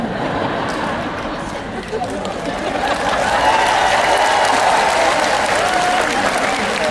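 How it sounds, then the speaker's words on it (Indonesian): Wives in an audience at a Valentine family talk break into sustained clapping that swells and fills the room, with a murmur of crowd voices underneath. "Para istri tepuk tangan maksudnya apa?"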